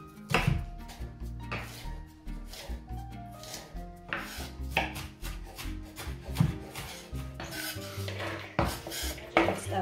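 Onion being chopped finely with a knife for a salad, a busy run of close knife taps and board knocks mixed with clattering dishes and pans, no talk.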